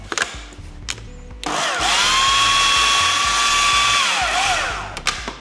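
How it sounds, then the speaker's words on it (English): A food processor whizzes the base layer of a raspberry and matcha raw slice. After a few knocks, the motor spins up into a loud, steady whine that holds for several seconds and then winds down, with no talking. "We're just gonna whiz that back up, and that's your first layer."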